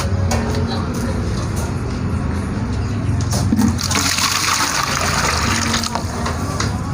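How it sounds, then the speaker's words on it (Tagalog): Hot liquid pours into a bucket while fabric conditioner is being made, a continuous splashing gush that swells and hisses louder partway through, with a person talking nearby. "Sasali na po natin sa timba. So salin po natin dito."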